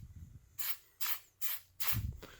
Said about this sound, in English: and just spray it right now